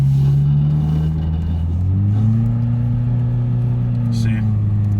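A Chevrolet Cobalt with a failing transmission accelerates from a stop sign, its engine note droning and climbing steadily in pitch as revs build, loud and close throughout.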